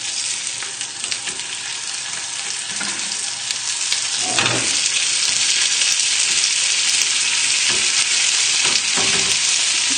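Tuna steaks frying in hot oil in a pan, a steady loud sizzle running throughout with brief stirring and scraping bursts partway.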